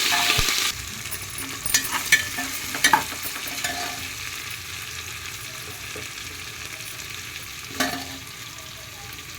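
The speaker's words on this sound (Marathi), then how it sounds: "अदरक लहसुन कड़ी पत्ता थोड़ी कोथिंबीर एक मिनट हलवते" Ginger, garlic, curry leaves and coriander fry in a pan while being stirred, giving a steady sizzle with occasional clinks and scrapes of the spoon, close and fairly loud.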